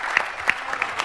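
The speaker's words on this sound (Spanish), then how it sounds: "Igual te aplaudieron." A few people clap at a senators' public gathering, a brief patter of sparse, distinct hand claps.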